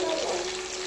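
Quail pieces frying in hot oil give a steady, close sizzle with bubbling crackle throughout the short moment, alone and without talk.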